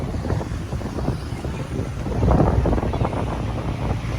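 Gusty wind buffets the microphone outdoors, rumbling low and steady, swelling stronger midway before easing slightly.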